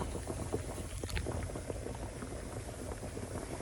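Water pours steadily into a pot with a continuous bubbling, splashing rush, no voices, fairly quiet.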